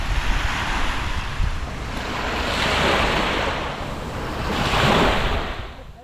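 Gentle waves at a small East Sea beach with a breakwater and lighthouse wash ashore in soft, rolling swells that rise and recede, mixed with wind rumble on the microphone, with no talking.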